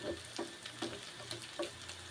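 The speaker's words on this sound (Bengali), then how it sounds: "ছানার বড়াগুলো দু পিঠ ভালো করে ভেজে নিচ্ছি" Chhana bora, cottage cheese fritters, sizzling in hot oil, a soft, close crackle with small regular pops and bubbling, faint and steady with no voices.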